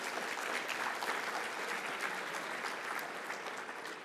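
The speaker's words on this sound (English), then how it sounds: "How about a round of applause for your great leader?" Conference audience at a legislative summit applauds a leader, an even, fairly distant wash of many hands clapping that holds steady before tapering slightly.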